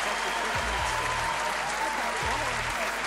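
Audience at a stand-up comedy show applauding, a brief burst of clapping heard over a steady background hum.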